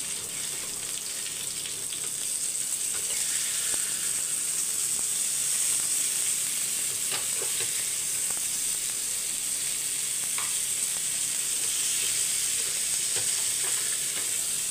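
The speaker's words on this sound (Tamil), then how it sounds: "நம்மளோட மீன் வறுவலை பார்க்கலாம்." Seer fish slices fry in a covered pan over low heat, giving a steady, close sizzle with fine crackling and occasional pops that continues throughout.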